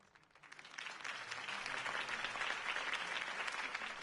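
Applause from a video game crowd after Harvey Dent's campaign speech, swelling in from quiet to a steady, dense clapping that holds for several seconds.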